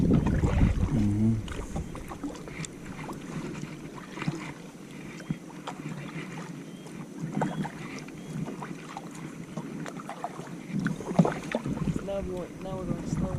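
Canoe paddling on a river against a current, with soft water swishes and strokes under steady wind noise and occasional talk nearby.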